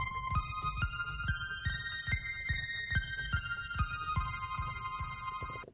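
Synthesized electronic tone processed with delay, a steady sustained pitch cut by evenly spaced throbbing pulses that repeat about every half second until an abrupt stop.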